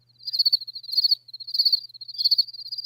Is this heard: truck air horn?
no